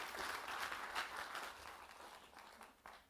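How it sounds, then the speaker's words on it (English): An audience applauds a speaker at a corporate talk, a brief, faint wash of steady clapping that tapers off. "Why don't you give Graeme a big round of applause?"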